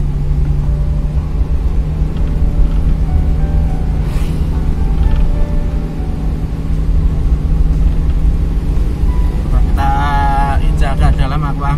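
Engine of a 1990 Toyota Kijang Super in second gear pulling up a steep road, a loud, steady low drone heard from inside the car with brief higher tones near the end.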